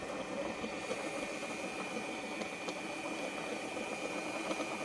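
A magnet spinning on a three-phase powered drive gives off a steady, continuous mechanical hum with a constant high whine, even and unbroken throughout, with no talking.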